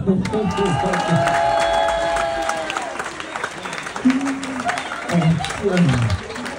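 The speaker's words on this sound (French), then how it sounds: "Vous l'avez fait, on peut les applaudir" A show audience applauds riders who just finished a roller coaster ride, with clapping and cheers mixed with nearby voices and chatter throughout.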